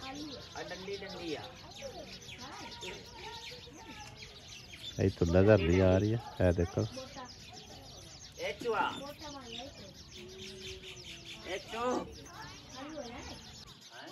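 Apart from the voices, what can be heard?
sparrows chirping in the evening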